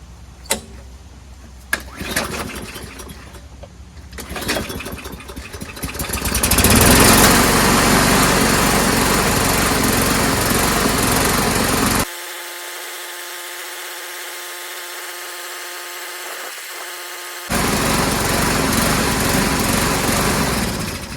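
A lawnmower engine with a messy carburetor and manual primer bulb cranks over with a few pulls, then catches and runs loud and rough, its pitch surging and dropping unevenly for several seconds with no talking.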